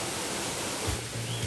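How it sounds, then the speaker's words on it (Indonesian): A waterfall beside a rice-field trail in Madyopuro sends out a steady, dense rush of falling water, loud and continuous with no voices. "Air terjunnya nih, guys."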